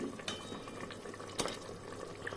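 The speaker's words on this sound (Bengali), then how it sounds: "এই যে তেজপাতা আর হলুদ আর অল্প নুন দিয়ে জলটা ফুটাচ্ছি।" Water with bay leaf, turmeric and a little salt simmers in a pot, a faint continuous bubbling hiss with a couple of small clinks, close and quiet.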